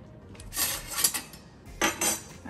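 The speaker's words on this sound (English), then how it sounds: "we're gonna put the lid on so I can trap every last bit of the heat" A metal lid goes onto a cooking pot of pork neck bones: two quiet bursts of clattering, clinking metal, close by, with a soft hiss of background noise between them.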